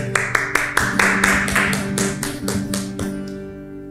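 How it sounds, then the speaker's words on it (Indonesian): Children in a Sunday church service for kids clap for God in a steady, rhythmic run of about a dozen loud, close claps over a music backing, slowing and fading near the end. "Yuk, semua beri tepuk tangan buat Tuhan."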